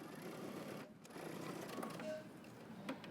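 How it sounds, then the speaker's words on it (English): A sewing machine runs a short back stitch on pants fabric, a steady close mechanical whir that briefly pauses near the middle before resuming. "I'm going to stitch, back stitch"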